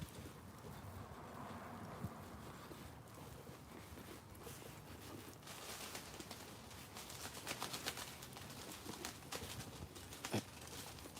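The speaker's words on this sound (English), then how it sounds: "those noises of the birds in the trees, as I'm walking past, I'm spooking them" Birds in cemetery trees startled by someone walking past, with scattered fluttering and cooing pigeon- or dove-like calls over a steady outdoor background, plus a couple of sharp brief knocks.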